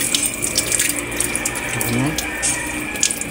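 Kitchen faucet opened gently, a steady soft stream of running water into a sink with faint clinks, while a person talks briefly nearby.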